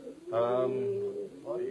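A pigeon in a loft gives a single, close, drawn-out throaty coo, followed by the start of a second, softer coo.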